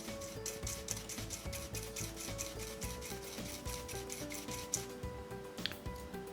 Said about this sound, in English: You go around in a circle with your brush.